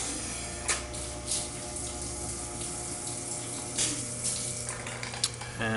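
Coolant flowing on an Acroloc CNC machine, a steady splashing stream of liquid running continuously with a constant mechanical hum beneath.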